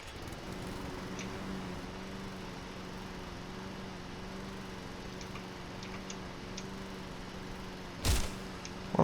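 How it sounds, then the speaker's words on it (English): Small ride-on lawn mower running in the Project Zomboid video game, a steady faint buzzing engine hum throughout, with a sharp click near the end. "let's put a little bit of gas in this tiny mower and see what it does"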